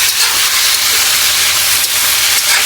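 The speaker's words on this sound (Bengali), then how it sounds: "যেমন পেঁয়াজ দিয়ে দিলাম, সাথে আলু দিলাম, তো একটু ভেজে নিচ্ছি" Onion and potato fry in a pan, a loud, steady hissing sizzle that carries on without a break, close and with no talk.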